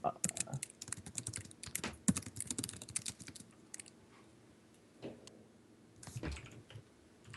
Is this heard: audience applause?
no